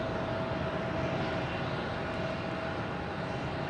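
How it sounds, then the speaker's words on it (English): A Delta Connection Embraer 175 jet takes off at night at Logan Airport, its engines a steady, fairly distant broadband roar holding at an even level with a faint whine on top. "Embraer 175 is the one that took off. The Delta connection."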